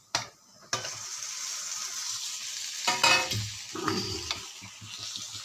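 Cooked rice tipped into a hot pan with pepper-fried aromatics, a couple of sharp clatters up front, then a constant sizzle with scraping and stirring bursts, close by and no voices.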